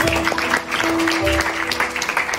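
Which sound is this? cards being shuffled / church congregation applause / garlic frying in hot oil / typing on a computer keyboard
church congregation applause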